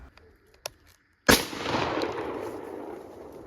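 A single sharp pellet gun shot fired upward at a squirrel in a tree during a hunt, a loud crack followed by a long fading echo and rustle, with a few faint clicks beforehand.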